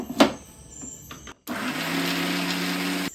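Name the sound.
mixer grinder grinding chutney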